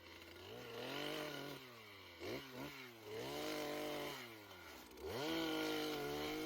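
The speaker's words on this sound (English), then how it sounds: "Using the chainsaw to cut stuff into smaller pieces also helps as well." A chainsaw cuts branches into smaller pieces for a slash pile during a snowy winter property clean-up, its engine loud and close, revving up and dropping back in repeated surges, with no talk.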